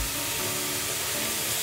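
Water heats in a pot on a home stove, a steady close hiss of steam and bubbling without breaks over a brief moment.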